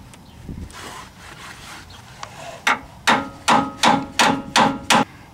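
Seven sharp metallic hammer blows ring out on a bolt of a 2004 Mustang steering rack, evenly spaced and loud after a stretch of quieter shuffling and handling noise.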